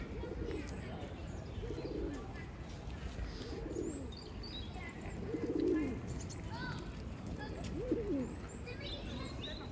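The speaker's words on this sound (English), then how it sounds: "Always pigeons in London," Pigeons coo in soft, repeated low calls in a London park, several rounds spaced a second or two apart over a quiet outdoor background with faint distant sounds.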